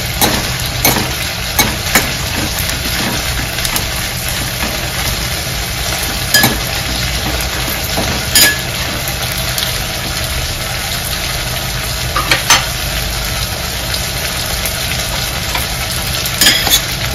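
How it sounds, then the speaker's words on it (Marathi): Green chillies roast in a little oil in a pan, giving a loud, steady sizzle with scattered sharp pops and clicks from stirring and spattering. "तेल टाकून भाजून घेते मी"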